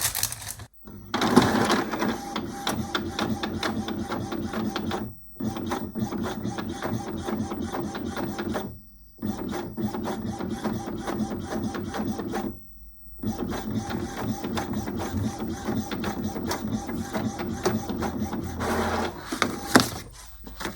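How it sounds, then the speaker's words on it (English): An inkjet printer runs a quilt label sheet through with a steady mechanical whir and rapid clicking, pausing briefly a few times before resuming, close by. "I'm just going to press print"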